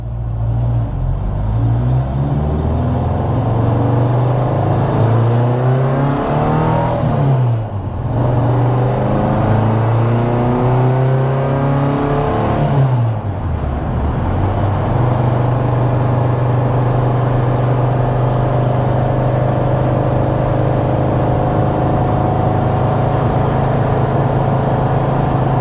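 A supercharged 1970 MGB GT engine accelerates, revving up through the gears with rising whine and engine note, brief dips at two shifts, then holding a steady loud drone, no talk.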